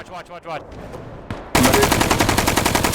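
Sustained rapid automatic gunfire through a fence in the video game Bellum, loud and close, erupting after brief muffled voices and chatter, then continuing as a dense rattling burst.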